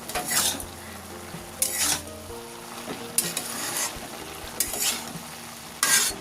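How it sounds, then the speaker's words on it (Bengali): A spoon stirs drumstick (sajne) flowers cooking in a pan just after the lid comes off, with five distinct scraping stir strokes spaced over a steady low simmer, close and fairly loud, without talk. "আমি চাপাটা খুলছি একবার নেড়ে দেব"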